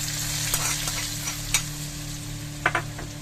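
Hot desi ghee tadka with browned onions poured into mutton kadai gosht, giving a steady sizzle and frying crackle with a few sharper spoon-stir clicks, close and alone with no talking.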